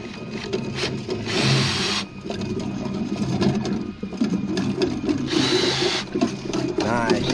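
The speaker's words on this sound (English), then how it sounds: "You can hear that cable coming right through there right now." A drain cleaning cable spins through a catch basin drainage line with a continuous rattling, whirring churn and bursts of hissing, while a person talks over it.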